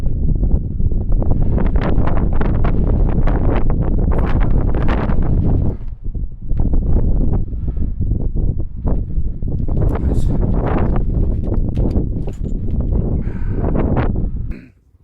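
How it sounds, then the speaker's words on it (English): Strong night wind at an abandoned mine buffets the microphone in heavy, roaring gusts, briefly easing midway before surging again, with no voices. "Now it is quite windy here tonight"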